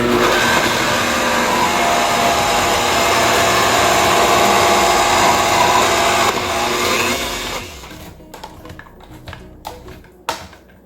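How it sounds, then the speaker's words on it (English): A kitchen blender whirs loudly and continuously through an energy ball mixture for about seven seconds, then winds down, leaving scattered clicks and taps. "I'm just turning my blender back on"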